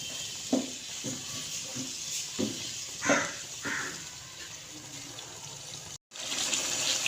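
Water from a cup poured into a pan of potato curry with yogurt and spices, a steady pouring and splashing wash with a few soft knocks and clinks, close and moderately loud, with no talking.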